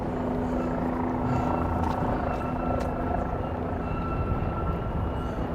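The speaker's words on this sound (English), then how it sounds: "So the helicopter is up there." A helicopter drones steadily overhead on a street in New York City, a constant rotor hum with faint city noise and no talk.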